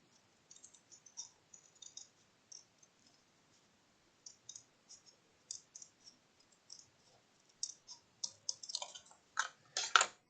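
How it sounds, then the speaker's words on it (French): Scissors snip out a round paper shape for a hat-style gift box, a sparse series of quiet, close clicking cuts that grow denser and louder toward the end. "Et on va tout simplement couper la forme"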